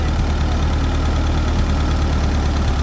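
A small John Deere-era farm tractor engine idles and runs at a steady, loud, close chug with a low knocking rhythm, no talk over it.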